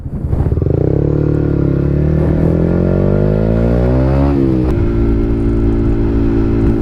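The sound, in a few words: 125cc motorcycle engine running while stationary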